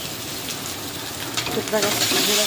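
Chicken pieces hit hot spiced oil in a pan as a chicken ghugni masala cooks, giving a steady close sizzle and hiss that swells louder in the second half, with faint voice-like tones mixed in.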